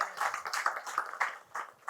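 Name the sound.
audience clapping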